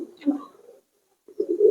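Pakistani and Giribaz high flyer pigeons in a home loft give two low, close coos, one at the start and one at the end, separated by a brief silence.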